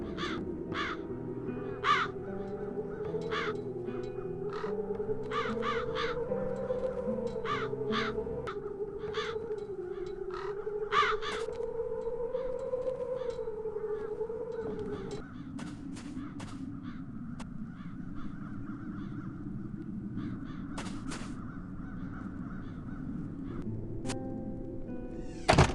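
Crows in The Dark Eye: Chains of Satinav cawing repeatedly in irregular bursts over a steady droning music bed, loud and close throughout, with no talking.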